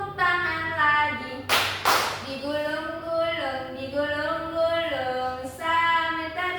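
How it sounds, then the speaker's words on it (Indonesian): During a classroom song game a class sings while a couple of sharp hand claps land close together early on, the rest carried by the group's singing voices. "Buka, tutup, bertepuk tangan."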